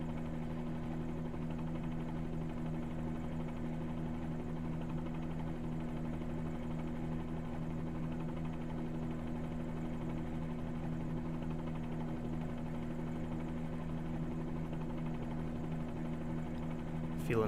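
Bell 47G helicopter engine in Microsoft Flight Simulator, heard as a steady, continuous low drone with a strong humming rotor tone, even and unbroken throughout, with no voices over it.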